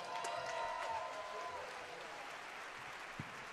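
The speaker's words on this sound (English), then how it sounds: "Give him a round of applause." Concert audience applause at a benefit show, a dense wash of clapping and crowd noise that is loudest at the start and then holds steady, with a few whistle-like tones early on.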